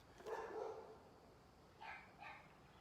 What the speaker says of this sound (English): Mabel, be quiet, freaking dogs.